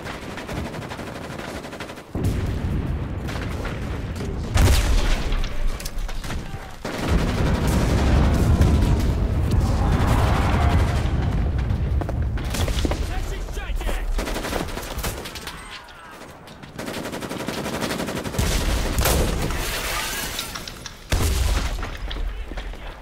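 Online shooter Enlisted, a German-language defence match: loud, dense bursts of machine-gun fire, single gunshots and heavy explosion booms roll on almost without pause, with occasional lulls.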